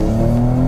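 A Mercedes-AMG E53 Cabriolet engine, which revs to 6,500 RPM, pulls hard at full throttle: a brief, loud, rising mechanical drone heard up close and alone.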